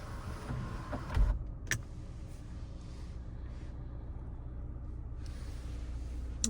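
A GMC Terrain Denali power sunroof motor runs steadily for several seconds inside the cabin, with brief clicks where it starts and stops as the roof opens and closes, under a constant low engine or fan hum.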